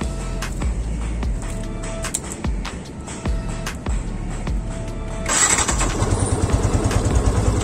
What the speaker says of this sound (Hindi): ये बाइक को स्टार्ट करो